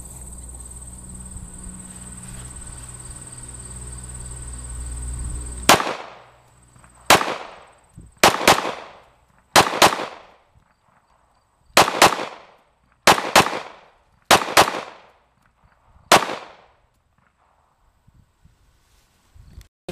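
Gunshots at an outdoor firearm training range with a 12 gauge shotgun, eight loud sharp blasts spaced a second or two apart, each followed by a brief echo, after a stretch of insect-like ambient hum.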